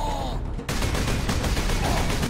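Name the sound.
ork gunners firing guns in video game Space Marine 2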